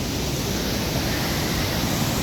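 Steady broadband rush of the Saint-Charles river flowing strongly near falls and cascades in Québec, a continuous close wash of water with no voices.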